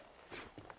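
Horse hooves clip-clop in Red Dead Redemption, a few close, distinct steps on a quiet town street, with no talk over them.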